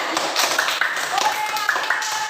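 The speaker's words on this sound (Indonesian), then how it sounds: "tepuk tangan untuk Asnafer" Classroom clapping for a student during a school lesson, a scattered patter of hands with brief sharp taps under ongoing talk.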